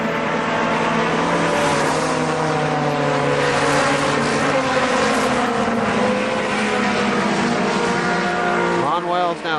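Race cars and pickup trucks roar around Kil-Kare Speedway in 1998 as a constant loud engine drone under a commentator's talk. Near the end, one engine swells with a quick rising whine as it passes close.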